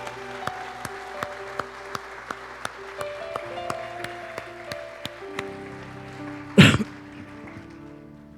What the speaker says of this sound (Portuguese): Pode aplaudir o Senhor, pode aplaudir, Ele merece.